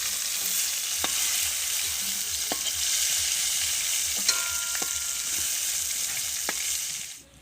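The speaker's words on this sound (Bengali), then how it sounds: "আমি অল্প করে ভেজে নিয়েছি, এবার তুলে নেবো" Prawns for a Bengali echor chingri dish fry in hot oil in a pan, a steady close sizzle with a few sharp spatula clicks and taps scattered through, no voices.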